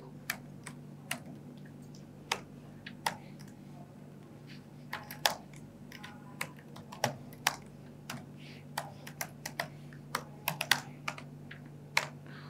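Computer keyboard being typed on while entering Docker commands, irregular crisp key clicks in short bursts over a low steady hum, quiet and near, with no speech.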